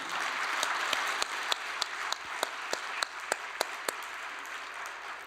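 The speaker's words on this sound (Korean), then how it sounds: "여러분 박수 한번 올려드리겠습니다" A church congregation applauds steadily, dense clapping throughout with a few sharper individual claps standing out.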